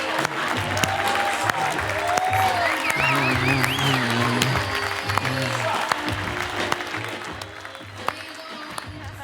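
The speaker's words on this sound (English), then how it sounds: "Let's give a lot of love and make a whole lot of noise" An indoor audience applauds and cheers for a stage entrance at an interview event, steady clapping with scattered whoops, while a host's voice and music carry on beneath the noise.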